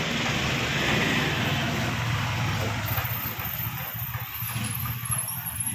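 Road traffic rumbles steadily outside a house at dusk, a continuous low wash of passing vehicles heard from a balcony, moderately loud and unbroken.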